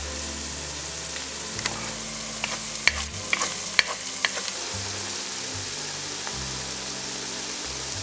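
Onions frying in oil with cumin seeds, a steady hiss and sizzle in a pan for Bukharian Jewish plov, with sharp scrapes and clicks of stirring scattered through and a low hum underneath.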